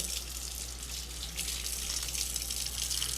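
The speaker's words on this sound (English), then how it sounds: "get water on both sides of it" Tap water running over a wooden cutting board as it is washed on both sides, a steady close hiss and splash of flowing water, continuous and even, with no voices.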